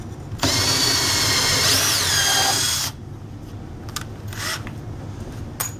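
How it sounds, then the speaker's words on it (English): A power drill drilling a pilot hole in a horse bow kit whirs loudly for about two and a half seconds, its pitch rising briefly mid-run, then stops, leaving quiet room noise and a few small clicks. "Now we can get an accurate place to drill a hole here"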